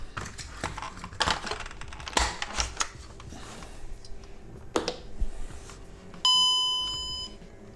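Clicks and clatter of handling, then a clear electronic chime from a VW warning buzzer/loudspeaker unit rings out and slowly fades, like a car warning gong.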